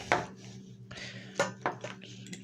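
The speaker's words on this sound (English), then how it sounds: "And we're going to cut it with a pizza cutter." A pizza cutter chops through cheesy hot pepper bread dough on a board, a few uneven knocks and scraping strokes with soft rustling between them, close and alone.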